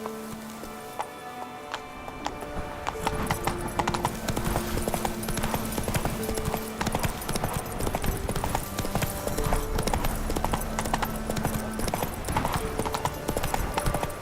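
Hooves of a horse clip-clop in a steady trotting rhythm within a video game, fairly quiet and continuous with faint background music and no clear voices over it.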